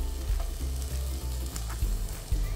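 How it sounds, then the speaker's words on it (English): Ginger, garlic and chopped onions sauté in a hot pan, giving a steady, close sizzle with soft stirring scrapes and no voices. "we'll saute the ginger and garlic and the onions until the onions soften just a bit"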